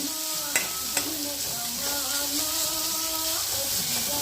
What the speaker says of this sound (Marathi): परतून घेऊया मेथी.